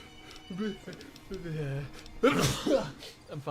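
A single sharp sneeze bursts out partway through casual talk during a New Vegas game stream, with voices speaking before and after it.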